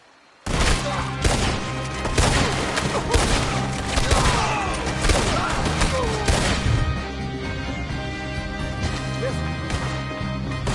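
A Red Dead Redemption 2 shootout erupts abruptly into a dense, sustained volley of loud gunshots and crashing impacts, rapid overlapping cracks continuing for several seconds before thinning slightly.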